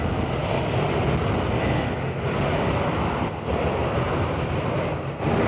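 A British Airways airliner at Nashville International Airport gives a steady, loud, broadband roar that holds for the whole stretch with only slight dips, with no talk over it.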